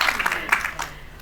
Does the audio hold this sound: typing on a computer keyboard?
no